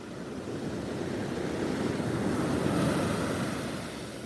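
Ocean waves roll onto a beach in a steady, broad wash of surf that swells and fades slightly, with some wind noise on the microphone and no talking.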